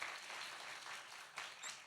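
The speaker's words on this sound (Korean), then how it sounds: "여러분 큰 박수 쳐주시고요" A church youth congregation claps at a Sunday worship service, a soft, dense patter of hands heard from some distance that stays even throughout, with no voices over it.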